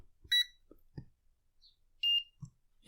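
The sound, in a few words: VENLAB VM600A digital multimeter beep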